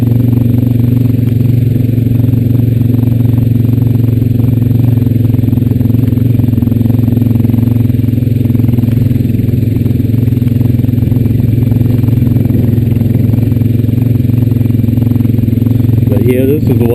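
Honda Rancher 420AT four-wheeler ATV riding along a trail, with a loud steady engine drone and rattling chassis clatter throughout as someone talks over it.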